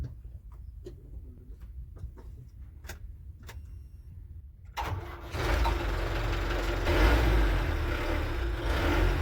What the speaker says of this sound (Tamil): ஸோ அடுத்து வண்டி ஸ்டார்ட் பண்ணிடலாம்.